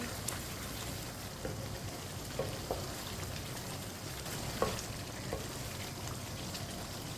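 Black chickpeas being stirred with chaat masala in a frying pan give a steady close sizzle and fry, broken by a few soft spoon scrapes and taps, with no talk.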